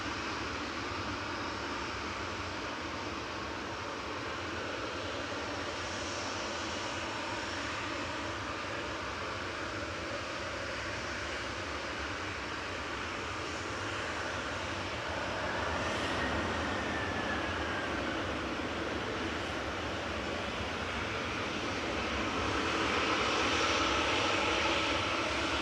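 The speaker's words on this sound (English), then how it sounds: "Aer Lingus UK just about to come over the threshold with flight 34 from Orlando in Florida" An Aer Lingus UK Airbus A330-300, a 14-year-old airframe, passes over the threshold landing at Manchester Airport, its engines a loud, steady broadband roar that swells slightly toward the end.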